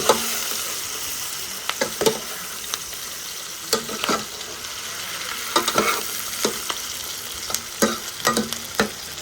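Onions fry steadily for rougail saucisse, a close, continuous sizzle broken by irregular scraping clicks of a spoon stirring the pan.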